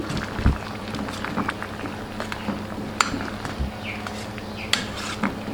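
A spoon scrapes and clinks against a cooking pot while stirring banana kolak, with scattered sharp taps over a low bubbling background.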